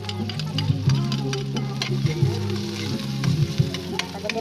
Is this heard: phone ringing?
no